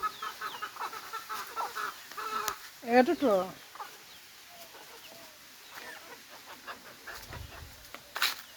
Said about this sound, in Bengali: আমি আমার দুটিকে ডরা দিছি এবং মুরগির বাচ্চাগুলো খাওয়াইতেছি।